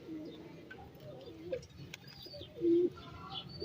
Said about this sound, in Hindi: सारे कबूतर जो है ना वो पानी पे आ गए हैं